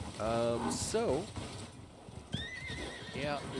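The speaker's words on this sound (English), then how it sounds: "a lot of horses and hyenas and things all upset with me" Horses in the survival game Icarus whinny and neigh in agitated bursts, with hooves clip-clopping beneath, while someone talks over them throughout.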